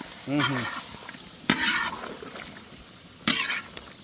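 Quail pieces fry in a pan for a quail cashew pepper thokku, with a low, continuous sizzle, a few sharp clatters and a brief voice near the start.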